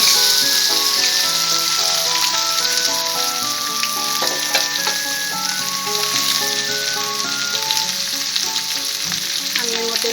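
Potatoes sizzle steadily in hot oil alongside fried red chili and nigella seeds, a loud, continuous crackling fry with occasional stirring and no talking.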